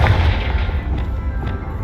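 Confringo blasting spell explosion in the video game Hogwarts Legacy, a loud booming blast with heavy low rumble that decays over about two seconds, alone with no talk.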